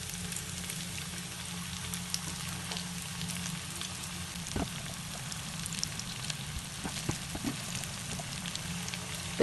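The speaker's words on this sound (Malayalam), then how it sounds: "ഇപ്പോൾ ഇത് 2 ഭാഗവും നന്നായിട്ട് ഫ്രൈ ആവട്ടെ." Potato lollipops frying in hot oil, giving a steady, close sizzle with scattered pops and crackles throughout, plus a few soft clinks as they are turned.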